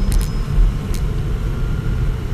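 A diesel vehicle accelerates slowly through its gears under light throttle, giving a steady low rumble from inside the cab, with a couple of faint ticks near the start and no talking.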